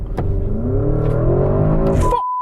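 A Porsche Cayenne Turbo GT in Sports Plus mode accelerates hard at full throttle, its engine note rising steadily and loudly for about two seconds before cutting off abruptly.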